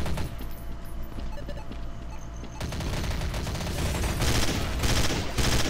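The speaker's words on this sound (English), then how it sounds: "Let's try burst fire mode." Rapid bursts of gunfire in Counter-Strike: Source, with dense, clattering volleys overlapping in a busy exchange that grows louder and more continuous toward the end.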